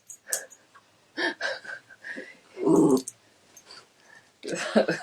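A dog growls and huffs in several short, close bursts separated by pauses, with a brief loud growl near the middle and another burst at the end.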